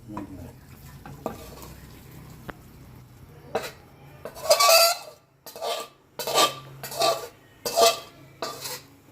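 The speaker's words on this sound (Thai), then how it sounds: "ขออภัยในเสียงขูดกระทะ" A metal utensil scrapes a pan of Thai green chicken curry in a series of loud, rough strokes, coming in quick bursts after a quieter stretch of light kitchen clatter.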